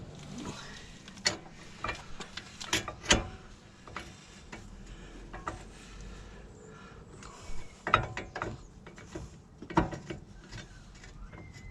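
Ratcheting and metallic clicks from tightening a nut on a Volvo V70 front driveshaft, quiet irregular bursts of clicks with sharp knocks between pauses.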